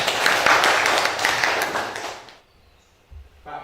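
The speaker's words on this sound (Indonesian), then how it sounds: "Tepuk tangan." Classroom of students clapping together loudly for about two and a half seconds, a dense burst of applause that stops abruptly, followed by near silence and a faint low thump.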